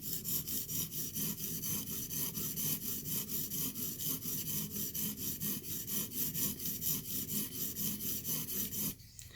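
A steady series of rhythmic rasping strokes as a chipped work knife blade is sharpened on a stone, about four strokes per second, close and fairly quiet, ending abruptly.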